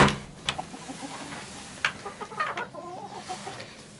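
Several hens clucking inside a chicken coop converted from a shed, scattered close and distant clucks and short calls without talking.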